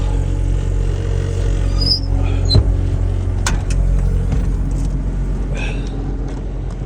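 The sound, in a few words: motor stalling during cold start in snow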